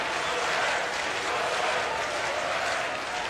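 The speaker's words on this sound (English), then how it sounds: "the U of A crowd starting to get into it again" Baseball crowd at an NCAA College World Series game between Coastal Carolina and Arizona, a steady wash of cheering and applause from the Arizona fans, dense and sustained at a distance.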